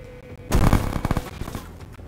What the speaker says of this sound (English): Frag out, second floor.